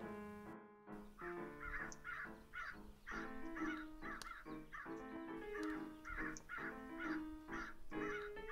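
Ravens caw harshly and repeatedly in a steady, rhythmic series while mobbing a hawk outdoors in California. The caws are close and loud, one after another, with no talking.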